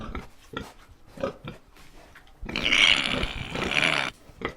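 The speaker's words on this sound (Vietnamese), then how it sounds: "Con lợn." A pig grunts and oinks, with soft scattered snuffles before one loud, drawn-out burst of rough squealing grunts near the end.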